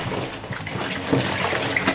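Water sloshes around inside a Scrubba portable wash bag filled with air and detergent as it is shaken by hand, making continuous, moderately loud, uneven rinsing swishes close up, with no speech.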